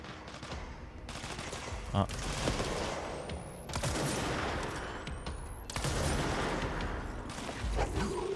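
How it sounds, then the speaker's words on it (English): Bursts of rapid gunfire in the video game Control, several volleys crackling over a steady background, moderately loud. "gunshots."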